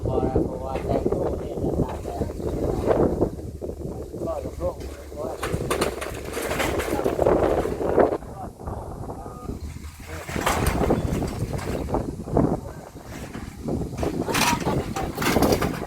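Gusts of wind buffet a house roof during roofing work, roaring and rumbling in uneven surges against the microphone while people talk over it.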